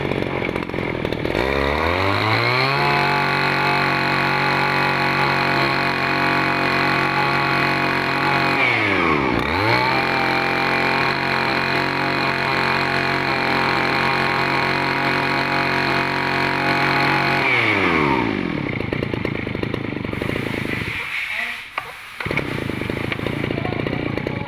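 A Makita 350 brush cutter with a plastic-housed engine revs loudly and steadily at high speed, with a brief dip partway through, then winds down near the end; the sound is close and carries on without any talk.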